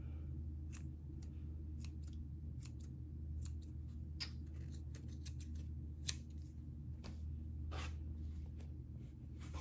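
Scissors snip through the yarn tail of a double crochet daisy turtle amigurumi piece, giving a series of short, faint crisp cuts over a steady low hum in a quiet room.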